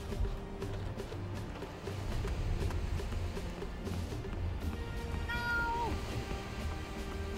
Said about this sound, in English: did I just accidentally step on a cat while crossing that bridge?